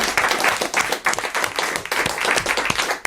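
A studio audience claps steadily for about three seconds, a dense, even patter of hands with a few voices faintly underneath.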